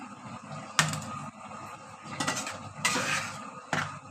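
Vegetables, potato and pointed gourd, tipped into a pan where tilapia fish was just cooked, giving a few sharp clanks and scrapes of metal utensils against the pan, close and moderately loud, with quiet gaps in between.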